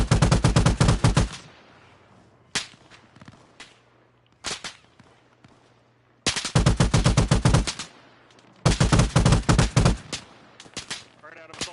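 Bursts of automatic rifle fire in an Arma Reforger training exercise, loud rapid strings of shots separated by pauses with scattered single shots and faint background hum.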